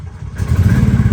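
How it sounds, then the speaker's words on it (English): Gas Club Car golf cart engine catching and revving hard to wide open, a loud, close, rough mechanical roar that kicks in abruptly after a quiet start. "As soon as the engine engages, it's running wide open."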